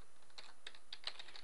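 Careful typing on a computer keyboard, a short run of distinct close key clicks at an uneven, deliberate pace in a quiet room.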